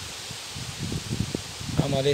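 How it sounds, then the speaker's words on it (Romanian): Strong wind gusts across a riverside carp-fishing spot, a constant rushing and rustling roar with someone speaking briefly over it. "astăzi bate vântul foarte tare"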